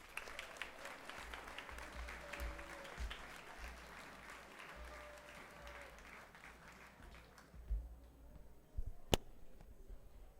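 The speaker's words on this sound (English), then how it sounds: "Please give all our PSC teachers a round of applause." A school assembly audience of Year 12 students and staff applauds their teachers, a steady roomful of clapping lasting about seven seconds before thinning out into scattered claps and quieter room noise.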